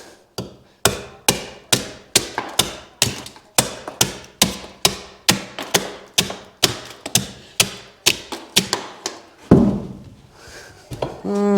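An adze chopping and trimming a log for a log house frame, a steady run of sharp, close wooden thunks about twice a second, followed by a brief pause and a scrape.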